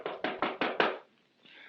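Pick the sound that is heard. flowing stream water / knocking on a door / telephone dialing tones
knocking on a door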